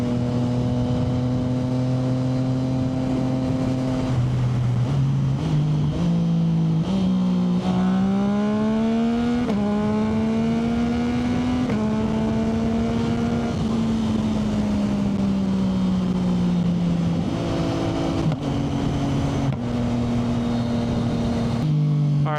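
A tuned Yamaha MT-09 motorcycle is ridden on the road, its engine droning loud and close, pitch rising and falling through repeated throttle rolls and gear changes.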